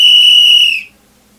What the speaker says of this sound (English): Blowing a whistle